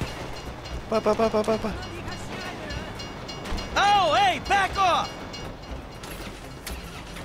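A train rumbles past in GTA 5 with rhythmic clacking and a rising, falling tonal squeal or horn in the middle, fairly close, as someone talks hurriedly over it.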